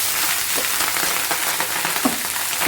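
Rice and cumin fry in hot oil and ghee in a pan, making a dense, continuous, close sizzle with light crackles and occasional stirring, and no voices.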